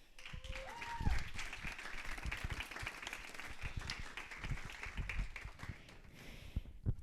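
Audience applause welcomes a local shepherdess being introduced at a celebration, a broad steady wash of clapping throughout with scattered sharper claps and a voice briefly over it.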